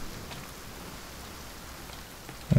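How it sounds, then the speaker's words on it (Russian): Steady rain falls in the survival game The Forest, a soft continuous patter with no voices, ending in a brief louder thump. "И почему-то дождик не перестает нифига."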